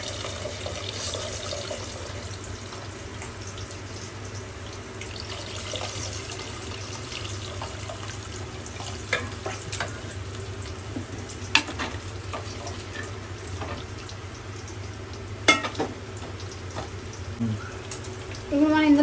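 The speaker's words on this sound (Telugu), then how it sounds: "ఇప్పుడు మనం ఇందులో చింతపండు రసం వేసుకుందాం" Tamarind juice is poured into a simmering South Indian river fish curry, a soft watery pouring and sizzling sound with occasional clinks of a utensil against the pot, under intermittent talk.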